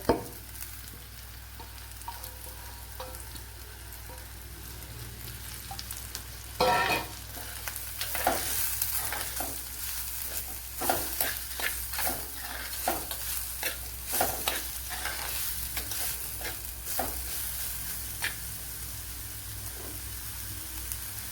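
Chopped onion sizzles in oil with ginger garlic paste, a steady hiss broken by repeated scraping strokes of a spoon stirring the pan, close and continuous with no talking.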